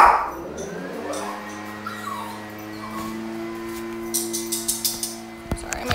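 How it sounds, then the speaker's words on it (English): A dog whimpers and whines with soft, high, wavering tones, followed by a run of quick faint yips or clicks near the end. No one speaks. "Sorry, my dog's here."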